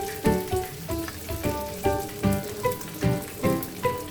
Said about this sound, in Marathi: आता टाकायचे वाटाणे, हिरवे मटर, थोडं फ्राय करायचं।